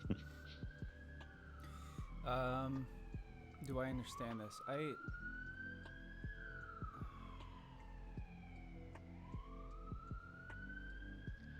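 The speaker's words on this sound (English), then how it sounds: "The sounds of New York City." Emergency vehicle sirens in New York City wail continuously, long rising and falling tones sweeping above street traffic, interrupted by brief nearby talking.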